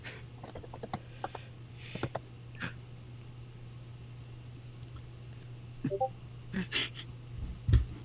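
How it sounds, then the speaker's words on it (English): A typed-in typing sound effect gives sparse keyboard clicks, single taps and short clusters spread unevenly over a steady low electrical hum, with a louder knock just before the end. "I was creating that typing sound effect."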